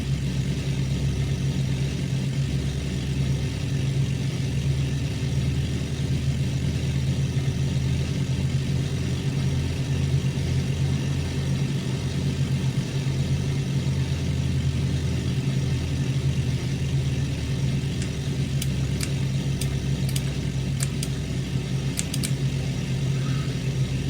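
Auster J1 light aircraft engine idling at low throttle and RPM in a flight simulator game, a steady droning hum with a low throb, continuous and even throughout with a few faint clicks near the end.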